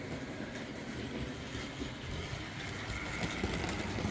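A Hornby B12 model train runs into a station, giving a faint, steady rolling rumble with soft rhythmic clicking from the track, no voices.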